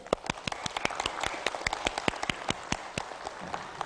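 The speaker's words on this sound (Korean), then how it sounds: "여러분 박수 한번 쳐보실까요?" An audience at a business lecture claps in a loose, moderately sized round, with distinct individual claps popping out sharply over a thinner patter, fairly close and without talk.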